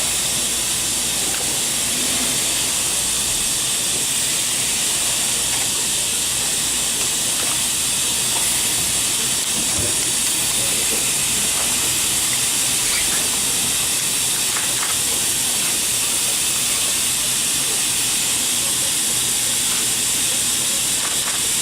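A NASA pressure suit inflates with a steady, loud hiss of rushing air that continues unbroken for about twenty seconds, with faint clicks and rustles underneath.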